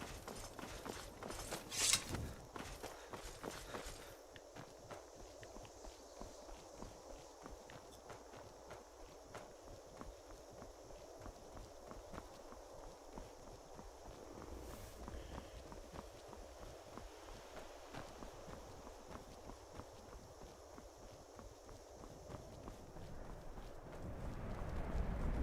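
Rapid hoofbeats run steadily for a long stretch as a horse gallops in Skyrim, with a soft windy hiss behind the rhythmic clatter.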